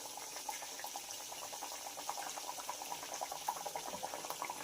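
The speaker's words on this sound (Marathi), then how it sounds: "आणि मीडियम गॅसवर हे अनारसे फ्राय करून घ्यायचे आहेत" Anarse sweets deep-frying two or three at a time in hot oil over a medium gas flame, giving a steady, quiet sizzle and bubbling with faint crackles throughout.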